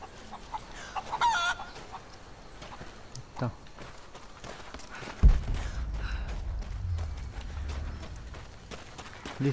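Chickens cluck in the video game Rise of the Tomb Raider, their short calls scattered across the stretch over a steady game ambience, with hooflike knocks and a louder thump partway through.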